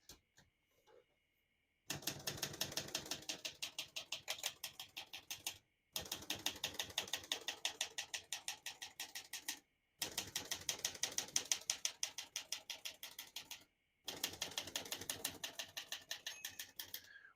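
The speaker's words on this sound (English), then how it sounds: "I was able to type most of the keys on the keyboard in one line" Close, crisp clatter of keys on a 1966 Olivetti Lettera 33 portable manual typewriter, struck in four rapid, evenly paced runs separated by short silent pauses.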